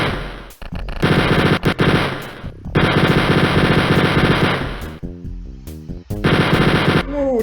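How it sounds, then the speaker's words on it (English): Rapid bursts of automatic gunfire from Wolfenstein 3D, loud and close, firing in sustained volleys with short breaks and a few brief game sound effects between them. "Unless I shoot him."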